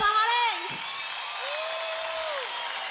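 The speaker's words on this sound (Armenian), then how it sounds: "Ծափահարենք։" A concert audience applauds at a live show, a steady wash of clapping that holds at an even level, with a voice or tonal whistle sliding over it near the start and again midway.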